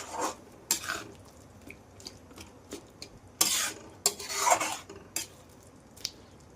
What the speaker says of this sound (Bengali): ওই মশলাটা আমি এর মধ্যে করে দেবো অ্যাড, তারপরে এটাকে খুব ভাবে এবার ভাজতে হবে